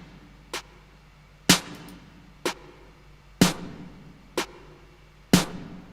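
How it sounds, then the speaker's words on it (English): Two layered snare drum samples, dry before saturation, EQ and compression, strike six times in a steady, spaced pattern, each a sharp loud crack with a short decaying tail, alone with no voices. "two snares layered up"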